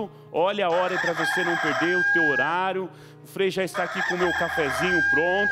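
A rooster crows repeatedly in the background while someone talks over it in Portuguese on a morning broadcast, the crowing partly masked by his voice.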